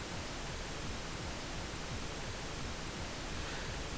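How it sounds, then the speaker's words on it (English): A steady hiss of pink noise fills the mix at a constant level, with a music track's kick drum only faintly thumping underneath. "I can just about hear that kick drum under that pink noise."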